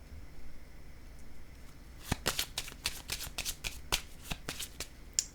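Tarot cards being shuffled and laid down, first a soft rustle and then a run of quick, crisp flicks and snaps as the cards riffle and slap into place close by.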